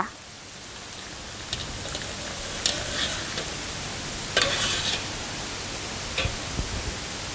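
Thai pumpkin rice crackers being stirred in hot deep-frying oil, a steady sizzling hiss with occasional louder scraping stirs, fairly close and alone.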